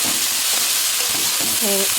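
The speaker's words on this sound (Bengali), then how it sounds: "এবার এই দিয়ে শাকটা ভালো করে ভেজে নেবো" Kalmi greens (water spinach) fry in a hot pan with a steady, close hiss and sizzle, with brief stirring scrapes partway through and no talking.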